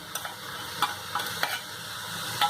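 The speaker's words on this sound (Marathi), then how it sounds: "हे चांगली मिक्स करून घेऊ." A spatula stirs red amaranth greens with fresh grated coconut in a pan for a Malvani-style dish, giving several close, irregular scrapes and taps over a faint sizzle, with no talking.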